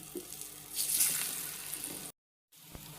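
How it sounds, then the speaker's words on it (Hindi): Small pieces fry in a little oil with a soft, steady sizzle that swells briefly, then cuts out to silence before resuming faintly. "ये कतलियाँ फ्राई हो रही हैं"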